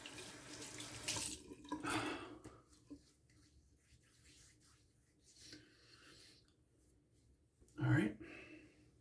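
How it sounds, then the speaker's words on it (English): Water runs into a bathroom sink while it is cleaned of hair, a low steady trickle with a louder gush near the end, under talking. "Trying to clean up the sink here because there's a lot of hair in there"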